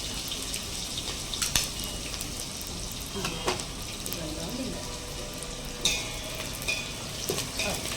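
Chillies, chana dal and curry leaves stir-frying in a pan, a continuous crackling sizzle with intermittent sharp spatters and utensil taps, a faint voice now and then beneath it.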